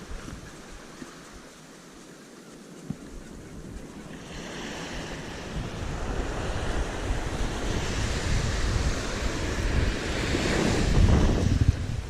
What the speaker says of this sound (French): Comme des bonnes rafales de vent,